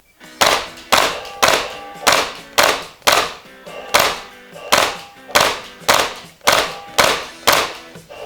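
Suppressed VFC UMP9 airsoft gun firing single shots, about fourteen sharp, evenly spaced muffled thumps with a mechanical clack, close and loud, each shot followed by a brief fade.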